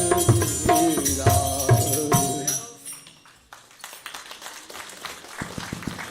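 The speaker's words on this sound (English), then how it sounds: "Give him a louder round of applause, everybody" Audience applause breaks out at an Arya Samaj foundation day program as a sung devotional song ends; the singing fades and a spread of clapping follows, moderately loud with scattered sharp claps.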